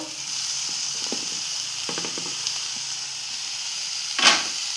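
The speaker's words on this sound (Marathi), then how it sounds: "आता आपण टॅमेटो टाक मिरची टाकतोय हिरव्या मिरची टाकून घेतोय चिरलेली" Chopped green chillies and tomatoes go into a hot pan, producing a steady hiss with a few light clicks and a brief, sharper sizzling burst near the end.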